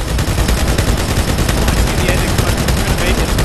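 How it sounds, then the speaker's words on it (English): Dense, continuous gunfire from a Halo 2 custom game, rapid automatic shots packed together at a loud, steady level for the whole stretch, with faint voices under the barrage. "There's so many shots!"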